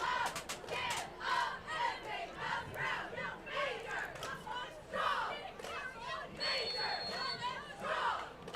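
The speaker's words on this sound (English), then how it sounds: "they do a special cheer tonight" Cheerleaders shout a special cheer in unison at a high school football game between Northampton and Pennsbury, a rhythmic chant of repeated phrases rising over crowd noise in the stands.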